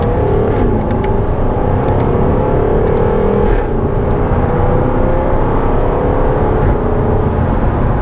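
A Jaguar F-Type R with a 5.0-litre V8 accelerates hard in dynamic mode on a spirited road drive, the engine loud and sustained from inside the cabin, its pitch climbing through gears with steady road roar beneath.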